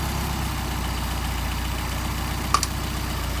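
A Mercedes 190SL engine with Solex carburetors idles close and steady with an even low pulsing throb, broken near the end by a brief sharp metallic click.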